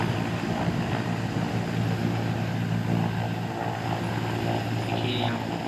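Several helicopters fly away overhead at an outdoor ground, their rotor and engine roar a broad, steady wash mixed with strong wind and crowd noise.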